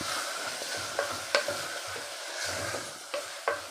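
Tomatoes sauté in a hot pan with a continuous sizzle, broken by several crisp utensil scrapes and taps against the pan as they are stirred.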